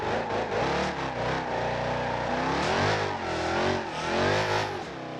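Engine of a Hellcat-powered cop car in BeamNG.drive revs and surges continuously as it drifts around an oval, the pitch rising and falling with throttle, loud and close with no talk.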